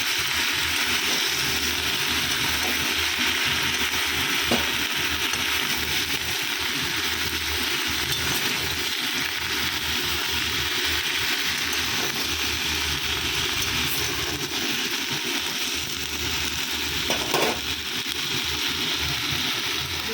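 Tomatoes frying in a pan give a steady, loud sizzle and crackle that carries on without a break, with faint clicks now and then and no talking.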